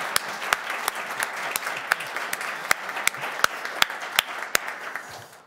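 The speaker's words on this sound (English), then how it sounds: "let's give her a round of applause." A round of applause at a board of health meeting: a small group claps steadily for several seconds, with a few sharp, distinct claps standing out near the microphone.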